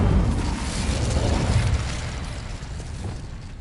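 An Incendio fire spell in Hogwarts Legacy on PS5, a loud, sustained roaring burst of flame that swells at once and then slowly fades, with no talking.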